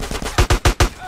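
Gunfire in GTA San Andreas: a quick run of about five sharp, loud shots in even rhythm, each with a punchy low thump, heard up close and alone.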